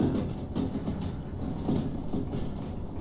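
A light train rolling on rails in the railway simulation game Derail Valley, a steady low rumble with rhythmic clacking from the wheels, close and continuous with no talking.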